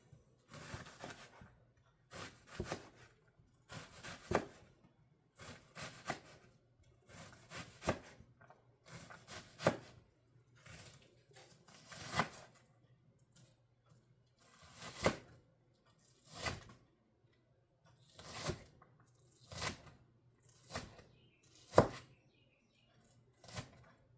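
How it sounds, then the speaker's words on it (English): Onions being finely chopped with a knife on a wooden cutting board, quiet and close, in steady clusters of quick rhythmic thuds separated by short pauses. "So I'm going to chop this up pretty fine because the way I'm doing these, it has to cook pretty quickly."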